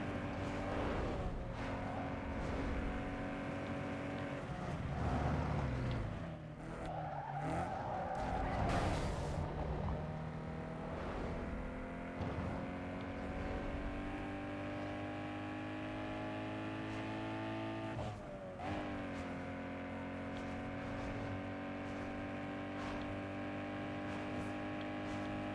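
A race car engine in Need for Speed: Underground 2 holds a steady high drone as it accelerates, with shifting pitch and a couple of abrupt gear changes or tire squeals, loud and constant throughout.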